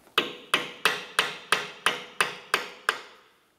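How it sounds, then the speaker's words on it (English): Nine sharp metallic hammer taps strike a liftglass support on a 1998-2002 Lincoln Navigator in a steady, even rhythm, each ringing briefly before the next, close by with no talking. "just give it a couple taps with your hammer"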